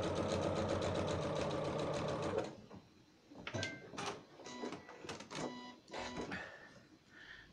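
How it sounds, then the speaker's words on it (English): A domestic sewing machine stitches along fabric about an eighth of an inch from the edge, running steadily and loudly for a couple of seconds before stopping, followed by scattered handling clicks and faint thuds as the fabric is repositioned. "I am sewing approximately 1/8 of an inch"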